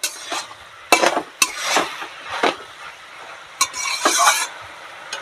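Banana flower stir-fries in a pan under a soft sizzle, punctuated by repeated loud metallic scrapes and clinks of a spatula against the pan at irregular intervals.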